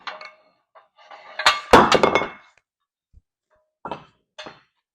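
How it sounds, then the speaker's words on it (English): Metal sockets clink and clatter while someone rummages for one that fits, working on a 1981 Mazda RX7 suspension; a dense burst of jangling metal in the middle, then a few sparse, separate clinks. "let's find a socket that'll fit through there"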